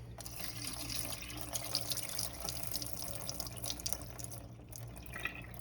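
Liquid poured out of a bowl of pomegranate seeds, a close, steady splashing and trickling stream of water with small drips, alone with no talk.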